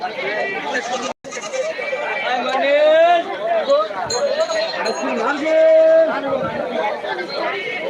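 Several goats bleat loudly and repeatedly at the Kaitla livestock market, some cries long and wavering, over a busy background of people talking nearby.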